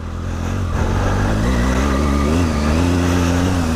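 The engine of a Triumph Tiger 800 adventure motorcycle runs close by off-road with a steady low hum, its pitch rising slightly as it revs.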